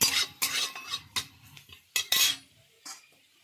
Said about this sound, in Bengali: রসুনটা হালকা একটু নাড়া দিই